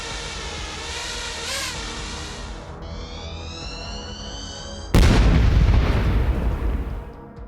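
A Russian soldier's own kamikaze drone strikes him. A steady whirring drone tone with a shifting pitch ends in one sudden loud blast, which roars and then fades over a couple of seconds. No voices.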